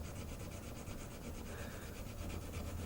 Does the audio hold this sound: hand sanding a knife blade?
yes